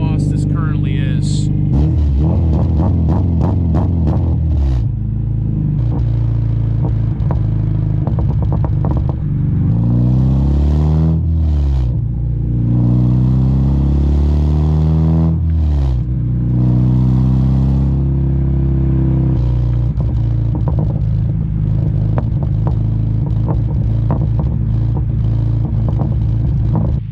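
A Honda Civic Si with an aftermarket exhaust revs loudly and repeatedly, engine pitch climbing and dropping through several close blips over a steady idle rumble, with a voice talking over it.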